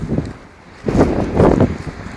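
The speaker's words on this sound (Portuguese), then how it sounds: "os pinheiros lá, os eucaliptos, tudo ventando muito" Strong gusts roar through pine and eucalyptus trees during a windstorm, surging in loud rushing bursts with buffeting on the microphone.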